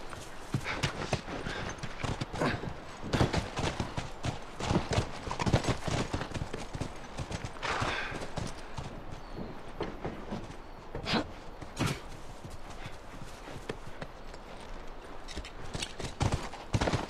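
Horse hooves clip-clopping in the video game The Last of Us Part II, a steady run of sharp, close hoof strikes with an uneven gait over quiet ambience, without talk.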